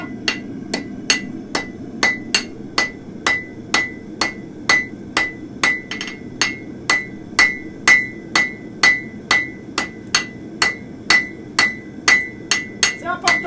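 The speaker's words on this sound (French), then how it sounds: "c'est important d'utiliser la boule du marteau, hein. On est en train d'étirer" A farrier's hammer strikes a horseshoe again and again on a hoof-shaped shaping tool, about two ringing metallic blows per second, loud and close, keeping a steady rhythm for the whole stretch with no talk.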